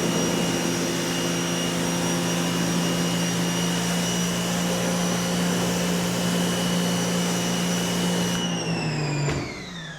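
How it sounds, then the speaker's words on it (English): A pressure washer blasts gunk off an old 40-year-old Bass Tracker boat, a loud, steady droning motor whine with constant spray hiss that winds down at the end. "Gonna take the pressure washer and get all of it sprayed off really, really good this last time"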